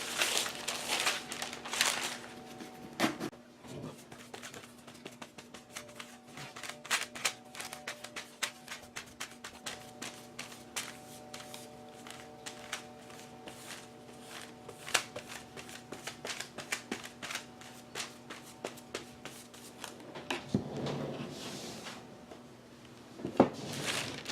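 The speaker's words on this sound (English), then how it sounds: "get some tissue paper down on my page" Tissue paper being handled and crinkled over an art journal page while laying it into Liquitex matte gel medium, a near, continuous run of dense crackly rustling with occasional louder crinkles.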